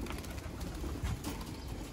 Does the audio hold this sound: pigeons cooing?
yes